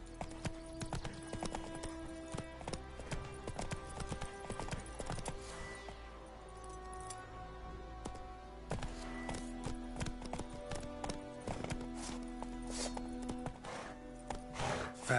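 Roach, the horse in The Witcher 3, gallops with steady rapid clip-clop hoofbeats close up under a game music bed, with the rhythm briefly easing midway before picking up again.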